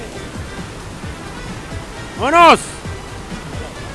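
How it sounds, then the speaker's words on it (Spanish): Water rushes steadily from a hidden waterfall tucked into a neighborhood, a constant broadband roar under a single loud shout partway through, with splashing and cliff-diving going on nearby. "Clavados en cascada clandestina."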